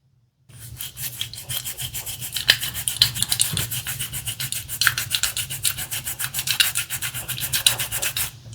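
A bristle-sided tongue brush scrubs back and forth across a wet tongue in quick, rhythmic rubbing strokes, close and fairly loud, repeating steadily without pause after a brief silent start.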